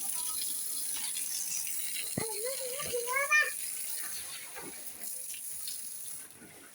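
Water from a hose sprays steadily against a building, a continuous close hiss and splatter throughout, with a brief squeaky tonal sound partway through and people talking nearby.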